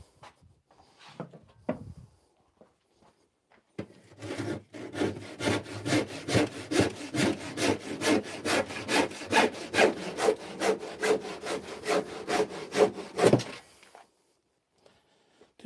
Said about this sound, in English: Where is the handsaw?